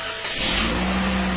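A car engine starts after a repair, a brief crank that catches and settles into a close, loud, steady running hum.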